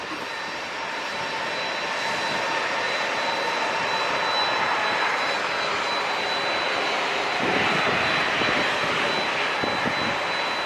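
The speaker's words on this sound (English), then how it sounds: "We got Sun Country throttling forward to get lined up." A Sun Country jet airliner throttles up on the runway at San Diego International Airport, its engines giving a sustained, building roar with a high whine, heard alone at moderate distance.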